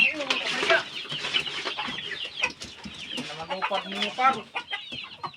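Rhode Island Red chickens cluck and chatter up close in a busy, irregular stream of short calls, with a person's voice speaking over the birds at times.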